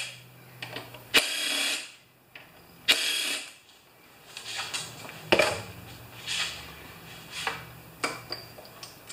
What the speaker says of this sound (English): And just to undo the bolts for that.